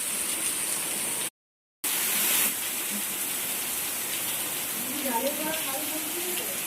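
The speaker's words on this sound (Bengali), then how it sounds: "ফ্রেন্ডস দেখো কত জোরে বৃষ্টি হচ্ছে" Heavy rain falls in a steady, dense hiss, close and continuous, with a brief dropout and faint voices mixed in near the end.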